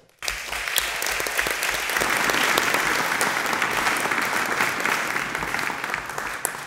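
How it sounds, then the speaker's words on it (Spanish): Applause at a government meeting between national executives and regional governors: after a brief hush, a roomful of people break into sustained, even clapping that holds steady to the end. "Pido un aplauso para él."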